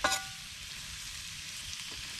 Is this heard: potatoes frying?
yes